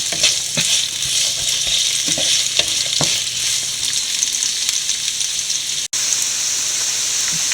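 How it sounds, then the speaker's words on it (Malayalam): Onions, shallots, ginger, garlic and green chillies sauté in a pan for a Kuttanad-style duck roast, a loud, constant close hiss of frying with occasional ladle taps and scrapes and a brief cut near the end. "സവോളയും ഇഞ്ചിയും വെളുത്തുള്ളിയും പച്ചമുളകും ചെറിയ ഉള്ളിയും എല്ലാം നല്ലപോലെ വഴന്നിട്ടുണ്ട്"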